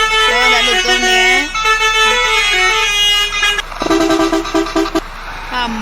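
Multi-tone bus horn in a bus video game blares loudly in sustained, pitch-shifting honks, then shorter repeated toots near the end.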